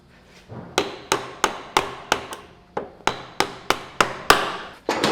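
A mallet strikes a metal punch to drive out a motorcycle axle during a floating brake rotor install, giving about a dozen sharp, loud, evenly spaced blows close by, with a brief pause midway.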